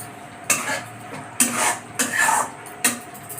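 A spoon scrapes and clanks in a pan as potatoes are stirred into fried masala for a village katla fish curry. Four distinct metallic stirring strokes sound close by, with quiet gaps between them.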